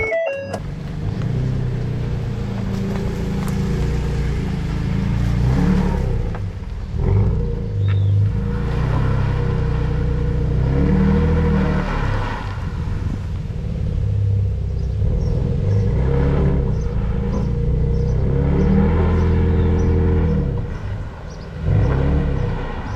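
A 2WD Ford F-150 truck with an open differential and traction control on, stuck off-road, revs and rumbles in surging waves for over twenty minutes' worth of seconds, loud and close without speech.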